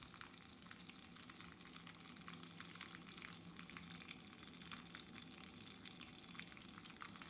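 Dried red chilies, mustard seeds, curry leaves and asafoetida frying in oil for a sambar tempering, giving a steady, fairly quiet sizzle with fine crackles throughout.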